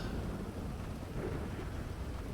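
A thunderstorm in a roleplay video game sounds as a steady, dense roar of rain with low thunderous rumbling, continuous and even throughout with no voices.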